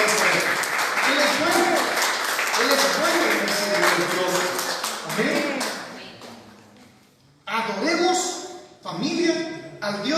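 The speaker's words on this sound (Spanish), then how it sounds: "Denle un aplauso al Señor" A church congregation claps in praise during a family worship sermon, bursts of applause mixed with exclaiming voices that swell, fade to near quiet, then return in loud renewed rounds.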